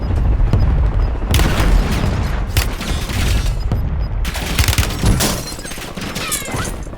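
Dense gunfire from the video game Warzone, loud rapid bursts and booming shots stacked over one another throughout, with brief dips between volleys and no talk.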